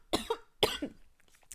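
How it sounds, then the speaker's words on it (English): Two hard, intense coughs from a nearby person, each a sharp burst with a rough tail, followed by faint breathing. "Oh, that was an intense cough."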